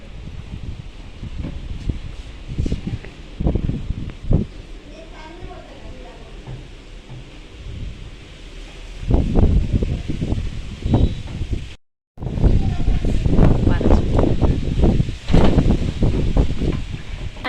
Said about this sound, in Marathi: अचानक खूप वारं सुटलेलं आहे